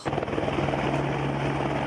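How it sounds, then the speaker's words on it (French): A helicopter ferries six tonnes of food and equipment up to an isolated high-altitude mountain refuge, its rotor a loud, close, steady beating thrum throughout with no voices. "Aujourd'hui, 6 tonnes de vivres et de matériel vont être transportées par hélicoptère."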